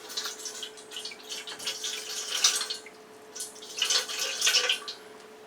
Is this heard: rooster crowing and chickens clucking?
no